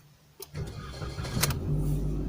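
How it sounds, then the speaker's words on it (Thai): A car engine cranks and catches at the end of a workday, then settles into a steady low running hum inside the car. "โอเคครับสตาร์ทเครื่องนะ"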